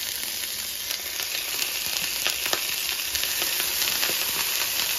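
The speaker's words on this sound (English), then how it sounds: "I'm gonna sear all 3 sausages" Three sausages sear in a hot pan, giving a steady, bright, hissing sizzle with small crackles and pops, close and fairly loud, with no speech over it.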